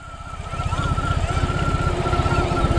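The reverse-assist electric motor on a BMW R18 Transcontinental motorcycle runs as a thin, steady whine over the throbbing, regular pulse of the idling engine, the sound growing gradually louder throughout.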